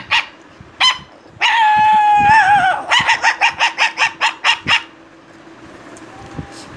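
A human voice imitates two dogs, first a big dog barking and then a small puppy answering. A few deep barks lead into a long whining howl, followed by a quick series of about ten rhythmic yelps, all loud and close.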